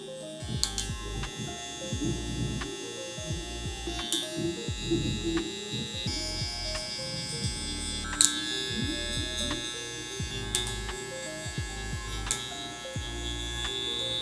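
Electric hair clippers buzz steadily while cutting a low taper fade, close and fairly quiet, with repeated short flicking strokes changing the tone throughout.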